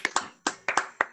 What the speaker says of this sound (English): please give a hand for our speaker